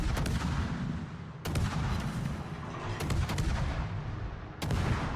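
Heavy ship guns fire in World of Warships with a Cassard, sharp booming salvos breaking through a constant low roar, several loud blasts spaced a second or two apart.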